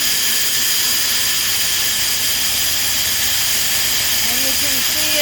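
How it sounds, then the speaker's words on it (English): A farm grinder mixer blending a batch of sheep treat feed roars with a loud, steady hissing drone throughout, while a voice talks faintly beneath it. "So we're mixing a new batch of treat feed again today. This is our grinder mixer."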